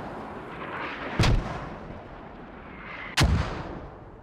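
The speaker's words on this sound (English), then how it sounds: "The mortars are walking to Russian troops north" Two heavy mortar rounds fire in the Squad video game during a one-life operation, each a sharp booming thump with a rumbling tail, about two seconds apart over steady battlefield ambience.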